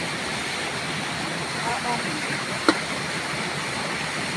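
Guhab Falls waterfall in the Philippines, a steady broadband roar of rushing water heard up close and constant throughout, with one brief sharp click partway through.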